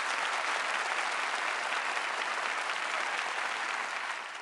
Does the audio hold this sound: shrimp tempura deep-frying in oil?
no